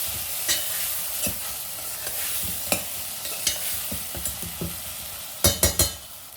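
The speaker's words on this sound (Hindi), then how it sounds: "इसके साथ ही ऐड करेंगे इसमें हमारे कटे हुए आलू। मिक्स कर देते हैं।" Chopped potatoes and small tomatoes stirred in a frying pan: a steady soft sizzle with spoon scrapes at irregular intervals, ending in three quick, louder clatters close by.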